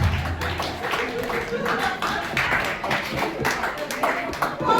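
Audience at a Hindi comedy poetry show clapping, a brisk patter of hands from a modest crowd mixed with talking and laughter.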